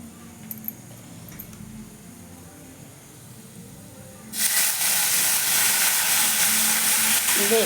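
Garlic hitting hot oil in a pan, starting as a faint background hiss before a loud, steady sizzle bursts in partway through and holds until the end.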